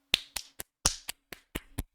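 Eight sharp, separate hand claps at an uneven rhythm, each a short bright crack with a quick decay, close and fairly quiet against a silent background.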